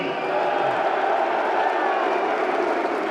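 Crowd at an esports LAN event for the Call of Duty League Major 2, OpTic Texas versus G2 Minnesota, cheering and roaring steadily and loudly throughout with no break.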